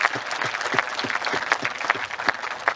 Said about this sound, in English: I'd also like to give a big round of applause to Dan Rake for the massive battle they gave us today